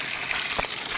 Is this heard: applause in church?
no